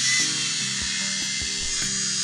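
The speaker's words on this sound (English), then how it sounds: "let's just start this drill, and you can see how it pulses" Electric drill running at a bench, a steady high whine with a rhythmic pulsing thump roughly every half second throughout, close and fairly loud.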